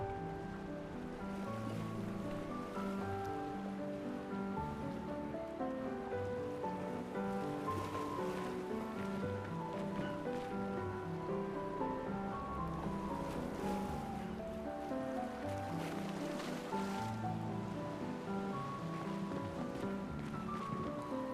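Steady ocean waves in the video game Clair Obscur wash in a continuous surging roar, mixed with a soft sustained musical drone, even and moderately loud throughout.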